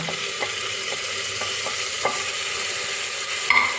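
Tomatoes and green chilies frying with softened onions in a pan for chicken curry, giving a steady close sizzle broken by light stirring scrapes and a brief clatter near the end, with no voices.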